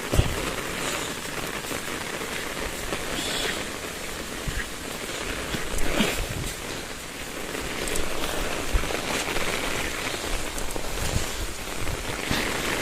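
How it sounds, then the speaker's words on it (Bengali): Heavy rain pours steadily during Cyclone Remal over farmland in Banshkhali, Chattogram, a dense close hiss with gusty swells that lasts throughout. "প্রচুর পরিমাণ বৃষ্টি হচ্ছে, দেখুন"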